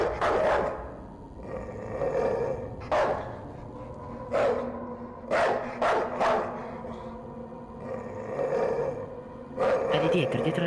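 Dog barking in a horror video game, with several loud, separated barks spaced a second or two apart over a steady droning background, with voices talking at times.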